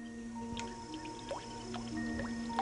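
Water drips at the remote upland source of the River Nile in Central Africa, with scattered single drops falling at an uneven pace, each close by and faint, over a steady low background hum.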